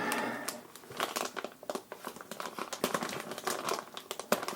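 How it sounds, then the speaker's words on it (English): Dense crinkling and crackling of stiff plastic, with sharp tearing pulls as a tough bag holding an FPV racing drone frame is wrestled open up close. "So let's open that. Oof, that is harder to open than I expected."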